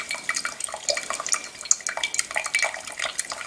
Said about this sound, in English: the water is forcing itself through this cone of coffee that you've created